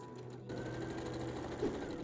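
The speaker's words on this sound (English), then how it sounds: "sew up the side seam, which I do first on the machine" A sewing machine stitches the seam of a dress, its quick regular whirr starting after a short quiet moment and running steadily nearby, fairly soft.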